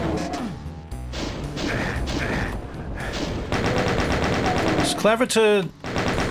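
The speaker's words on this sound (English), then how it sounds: "There's the chain gun at last." Rapid chain gun fire in a first-person shooter game, a dense burst of repeated shots running loud through most of the stretch, with a brief voice speaking over it.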